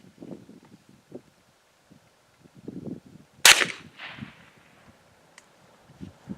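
A single sharp gunshot from a Remington fired in ballistic testing cracks loudly once midway, with a brief decaying tail, amid quiet outdoor rustle and muffled handling noise before and after.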